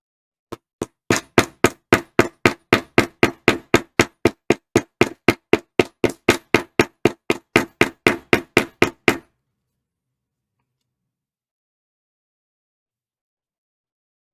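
Steady rhythmic hammering on leather during leathercraft, about thirty sharp evenly spaced strikes close by, then a long silence with one final tap at the end.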